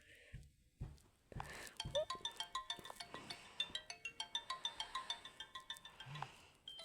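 An Infinix Hot 8 Lite phone rings with its incoming-call tone, a bright repeating chime melody played close and clear with no voices over it.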